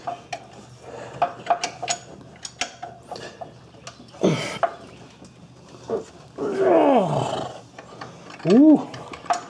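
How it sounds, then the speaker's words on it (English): A ratchet works on snug alternator bolts on a Ford Ranger, giving clicking bursts and strained creaks in short separate spells, close up, with some talk and grunting between them. "you can use a wrench or you can use a ratchet, which is what I'm going to be using"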